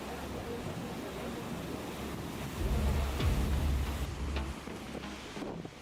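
Raging tsunami waves give a continuous roar of churning water and wind, swelling louder through the middle before easing, with no voices heard.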